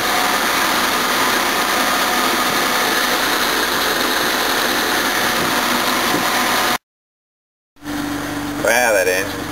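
Jaguar XJ6 with a newly fitted engine running on its first start, a steady, loud mechanical hum and whir from close by, cutting out briefly before resuming with a fan running and a voice over it.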